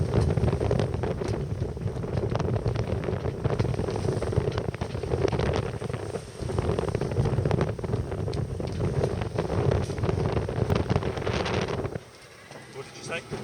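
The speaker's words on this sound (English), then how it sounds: "It was getting too windy and wet to carry on filming." Strong wind buffets a boat at sea in the Pentland Firth, a loud continuous roar with rushing water and gusts, cutting off abruptly near the end; a voice speaks faintly beneath it.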